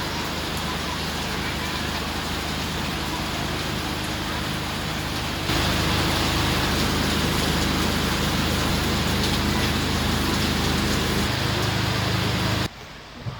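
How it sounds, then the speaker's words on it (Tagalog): Steady rain falls outdoors, a dense continuous hiss that thickens midway and stops abruptly near the end. "Ito, umuulan na."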